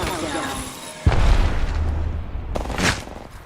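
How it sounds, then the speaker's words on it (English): A grenade going off in the Apex Legends video game: a sudden deep boom with a rumbling tail, then a second sharper burst shortly after, loud and close over continuous game noise. "Grenade incoming."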